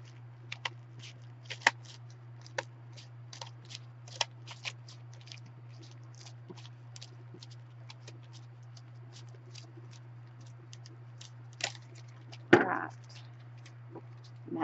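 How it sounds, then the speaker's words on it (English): Paper bags are cut down to size for a handmade paper bag album, heard as scattered faint snips and crinkles over a low steady hum, with a slightly louder rustle near the end. "I'm going to go ahead and cut these down"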